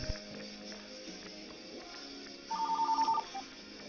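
A telephone rings once in WWE 2K20 Universe Mode on PS4, a short burst of rapid electronic trilling over a quiet background hum, followed by a faint trailing blip.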